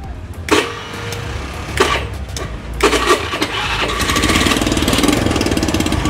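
A Honda Beat motor scooter, just back from a starter repair for a clicking fault, cranks in a few short bursts, then catches and runs with a steady, slightly rough idle and what may be a leaky exhaust.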